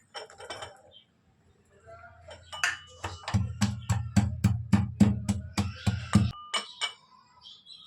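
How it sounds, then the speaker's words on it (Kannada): Garlic dropped into a pan for North Karnataka-style raw mango chutney, heard as a rapid run of sharp clinks and clatters with a low rumbling sizzle underneath, close and fairly loud, with no talk. "ಹಾಗಾಗಿ ಇವಾಗ ಬೆಳ್ಳುಳ್ಳಿ ಹಾಕ್ಕೊತಾ ಇದ್ದೀನಿ"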